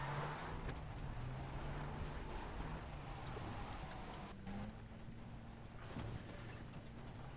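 A car drives in Far Cry 3, its engine droning steadily and loud under a wash of rain-like road noise, with a couple of faint thumps, no voices.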